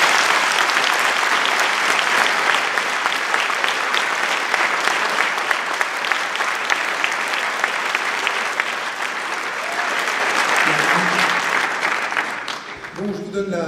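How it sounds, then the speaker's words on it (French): Sustained, loud applause rises from an audience at a political campaign event for the European elections in Caen and carries on for several seconds before a voice begins speaking near the end. "merci d'applaudir à nouveau Benoît Hamon"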